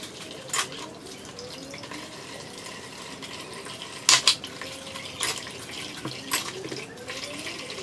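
Dishes being washed at a home sink: steady running tap water under faint clinks of crockery and utensils, with a few sharper knocks and splashes scattered throughout, fairly quiet and without talk.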